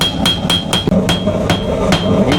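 At a forge, an apprentice blacksmith's hammer strikes metal on an anvil, giving about nine sharp, bright clangs in an even, brisk beat, close and loud, with no talking.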